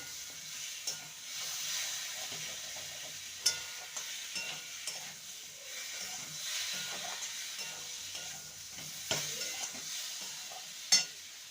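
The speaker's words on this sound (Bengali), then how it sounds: "এবার ভেজে রাখা আলুর টুকরোগুলো দিয়ে দেব ভালো করে মশলার সাথে কষিয়ে নেব" Fried potato pieces are stirred into spice masala in a pan, giving a soft continuous sizzle with scattered scrapes and clinks of the spoon, fairly quiet and steady throughout.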